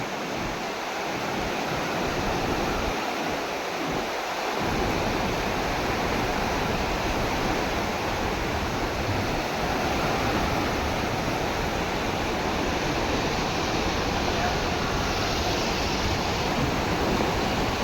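Fast-flowing water in a canal near the Pong Dam at Talwara, with the dam gates open, rushes continuously in a loud, dense roar, steady from start to finish with no voices.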